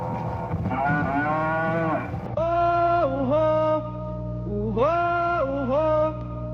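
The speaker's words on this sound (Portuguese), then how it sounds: "É um novilho brasileiro que a natureza criou." A young Brazilian bull moos in several long, loud, drawn-out calls with bending pitch, close by and repeated in two groups over a steady low rumble.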